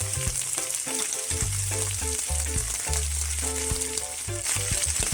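Fresh garden kale fries in leftover salmon oil as fish sauce goes in, a loud, close, continuous sizzle with crackling and stirring, alone without speech.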